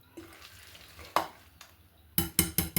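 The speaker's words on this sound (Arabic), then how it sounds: "غنحيد هاد الطراب هذا وغنخلط بالفرشيطه حتى ينسجم مع داك التفاح" A whisk stirs apple cake batter with chopped apples folded in, giving soft scraping strokes that start quiet and grow into several loud, quick swishes near the end, with no voices.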